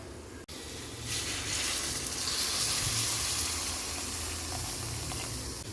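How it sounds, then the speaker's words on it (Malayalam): Hot water goes into a pan of chicken curry masala with softened onions, raising a steady broad hiss and bubbling sizzle that holds close and loud for several seconds after a brief click, with no talking. "നമുക്കിപ്പോൾ ഇതിലേക്ക് കുറച്ച് ചൂടുവെള്ളം ഒഴിക്കണം."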